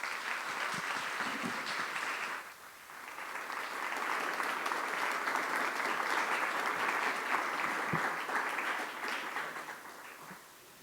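Sustained applause from a festival audience welcoming a poet to the stage, a dense steady clatter of clapping that dips briefly early on, then swells again and holds before tapering at the end.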